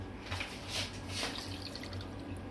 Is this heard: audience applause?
no